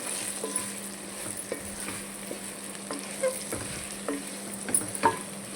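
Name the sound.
dry chillies, coriander seeds and chana dal roasting in pan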